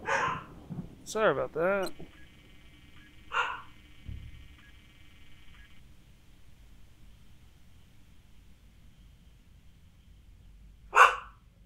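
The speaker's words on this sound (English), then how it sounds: "My girls, they bark at everything." Several sharp dog barks burst out close by in quick succession, then trail off into a quiet background with a couple of later yips; a person briefly talks between them.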